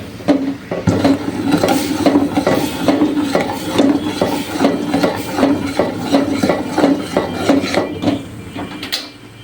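Rice flour dough with jaggery kneaded and worked by hand in a pot, a steady run of rhythmic rubbing, slapping strokes close by, about two per second, fading at the end.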